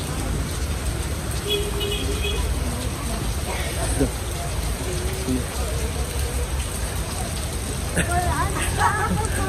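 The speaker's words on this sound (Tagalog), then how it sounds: "Sobrang maulan guys dito sa Boracay." Heavy rain pours down in Boracay, a dense steady hiss of falling water and splashing, loud and continuous, with people talking faintly beneath it.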